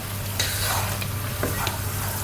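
Broken wheat and jaggery being stirred continuously in a pan over medium flame, with a soft sizzle under repeated scraping strokes of a spoon, close and steady.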